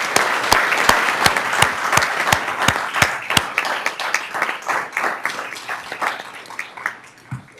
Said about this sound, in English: I think our superintendent deserves a round of applause